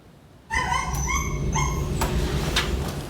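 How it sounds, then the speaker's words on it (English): Several husky-type dogs, among dozens of malnourished dogs rescued after being abandoned, bark, yip and whimper together after a sudden start, a dense, continuous chorus of overlapping high cries and barks. "We can hear some of those husky-type dogs"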